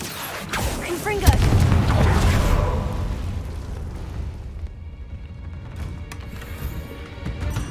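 A Confringo blasting spell detonates in Hogwarts Legacy as a loud, booming burst that rumbles for a couple of seconds, then fades into a quieter, lingering background of low noise.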